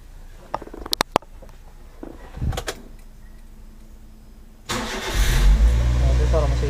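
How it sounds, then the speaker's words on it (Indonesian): A 2009 Daihatsu Luxio engine cranks and starts: a few clicks and a brief whir, then the engine catches with a sudden loud rise into a steady idle, close by, with people talking early on. "itu suara mesinnya"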